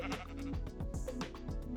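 A sheep in a video game bleats in repeated wavering cries over a steady backdrop of game sound, filling the short stretch.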